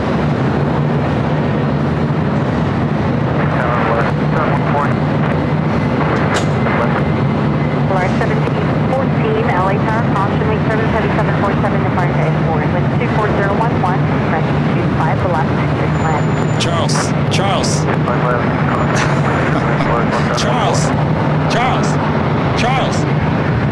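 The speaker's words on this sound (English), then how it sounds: "It's a 747-400 converted passenger plane. Now, cargo plane, this plane usually takes off rotates pretty quickly." A Boeing 747-400 passenger plane converted to cargo takes off at LAX, with a loud continuous jet-engine roar under steady talking throughout.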